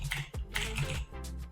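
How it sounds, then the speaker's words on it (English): A loud computer keyboard rattles with rapid clacking keystrokes in quick bursts, close and prominent, with brief pauses between runs of typing. "Sorry if my keyboard is loud."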